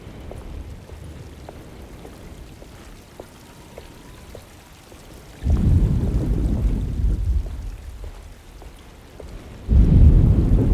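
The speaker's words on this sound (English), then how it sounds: "Just keeping an eye out for the storm." Steady rain pours in a thunderstorm in the Alone in the Dark video game, broken by two loud, heavy thunder rumbles that surge in abruptly and roll on for several seconds, with no voices.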